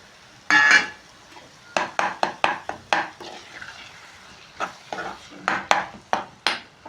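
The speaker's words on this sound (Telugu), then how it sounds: "సో గ్యాస్ సిమ్లో పెట్టి కలుపుకోవాలి. ఈ ఎగ్ అంతా ఫ్రై కావాలి." Beaten eggs for egg burji being stirred in a hot pan on low flame: a spatula scrapes and clacks against the metal in quick rhythmic bursts over a faint sizzle, close up, with no talk.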